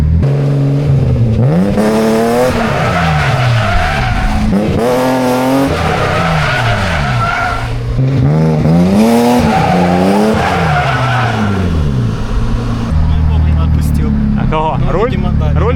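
A BMW E30 drifts with its tires spinning and skidding. Loud engine revs rise and fall in repeated surges over sustained tire squeal, and a voice talks over the noise.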